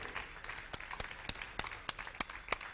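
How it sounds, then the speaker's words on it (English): Sparse, fairly distant clapping from a small audience at a cosmetics makeup masterclass, welcoming the general manager on stage with a thin, irregular patter of separate claps. "Come on, everybody, a huge, huge round of applause."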